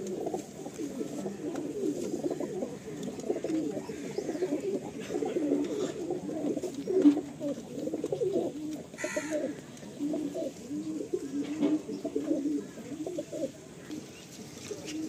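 Pigeons coo steadily and continuously throughout, a dense overlapping chorus of low throaty calls at a pigeon sale in Kolkata, West Bengal, with no talking over it.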